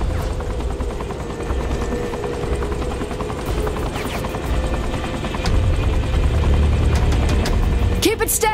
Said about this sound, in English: I've never flown anything like this thing before. It's called a helicopter.